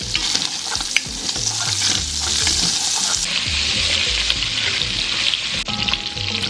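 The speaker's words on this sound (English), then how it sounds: "Next, cook your sausage. And we're just going to cook them until they have a nice golden color." Sausage frying in a pan toward golden brown, a loud continuous close sizzle with scraping stirs and occasional utensil knocks throughout, no voices.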